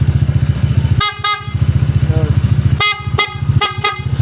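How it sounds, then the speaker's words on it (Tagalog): A Honda ADV motorcycle idles with a rhythmic putter while its weak horn, with water inside it, blares in several short honks, the first pair, then a run of quick bursts. "sure ako may tubig yan, pabusinahin natin"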